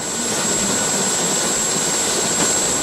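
A Helibras Dauphin helicopter taking off, with a loud, steady turbine roar and a sustained high whine holding even throughout, close by and without speech.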